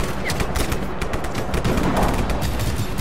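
Rapid gunfire in the video game Just Cause 3, dense bursts of automatic shots crackling continuously for a few seconds, loud and close with no pauses.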